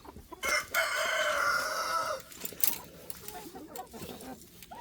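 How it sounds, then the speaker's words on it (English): A young rooster lets out one long, strained, slightly uneven crow nearby, followed by clucking and barnyard noise. "Got one there trying to learn how to crow."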